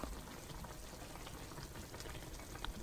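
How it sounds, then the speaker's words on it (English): Nikujaga, a Japanese meat and potato stew, comes to a boil in a pot, a faint, steady bubbling simmer heard on its own. "Then bring everything to a boil."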